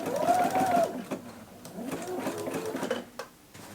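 A domestic sewing machine stitches along a folded fabric edge in quick mechanical bursts, its motor whirring in short runs that pause and restart.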